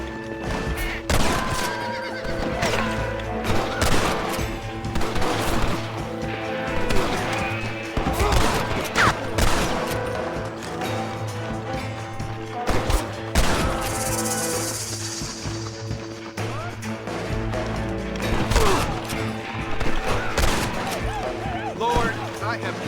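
Gunfire in the Western video game Red Dead Redemption: repeated sharp shots scattered through a busy mix of neighing horses, clopping hooves and crashes, with voices talking throughout.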